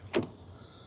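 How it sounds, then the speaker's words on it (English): Power window on a Kia EV4 hatchback in GT Line trim sliding down, a brief soft motor whirr near the start followed by a faint, steady high hum, close and quiet. "Windows go down nearly all the way"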